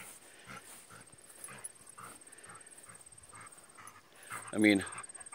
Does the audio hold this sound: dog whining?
yes